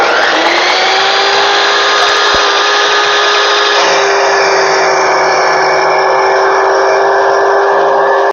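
A power tool cuts a ten-inch length of rod, holding a loud, steady high-pitched whine close by for the whole stretch, with its tone shifting slightly partway through.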